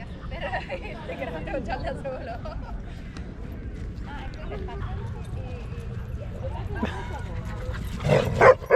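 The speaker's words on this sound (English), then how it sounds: "Almost got attacked here by dogs." Dogs bark and yip in a large green park in Rome, loose and running freely, with barks scattered across the scene and a louder burst near the end over steady outdoor background and people talking.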